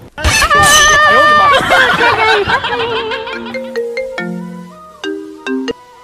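A melodic phone ringtone plays loud and close, a descending run of bright synth notes followed by sparse spaced tones, over the background chatter and laughter of a comedic sketch.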